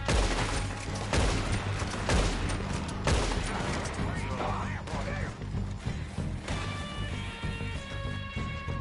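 Gunfire erupts in a Western shootout in Red Dead Redemption 2, a dense run of loud overlapping shots and volleys with crashes and thuds, dense at first and thinning out toward the end.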